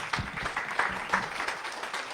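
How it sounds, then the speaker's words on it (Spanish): Audience applause for Marisol Castañeda, coordinator of the Asociación de Comunicadores de Calandria, at a project closing seminar: a steady patter of clapping from a modest crowd in a room, moderately loud, with no talk over it. "Un fuerte aplauso para ella, por favor."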